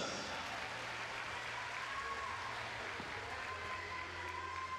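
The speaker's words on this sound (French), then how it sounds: "que l'on peut raccompagner avec vos applaudissements en bord de piste" Arena audience at the Jumping International de Bordeaux applauds a show jumping club team from Charente-Maritime as it leaves the ring: a steady, fairly faint wash of clapping that holds for the whole stretch, with a low hum beneath.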